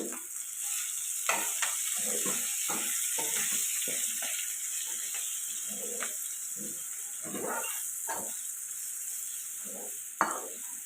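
Broad beans tossed with chili powder sizzle steadily in a hot pan while a spatula scrapes and taps in irregular strokes; a dog barks faintly in the distance.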